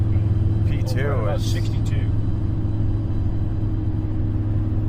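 Steady low drone and rumble of a 2008 Chevrolet Silverado 2500HD 6.6-liter diesel 4x4 cruising near 60 mph with a vibration fault, heard from inside the cab, with someone speaking briefly over the constant engine and road hum.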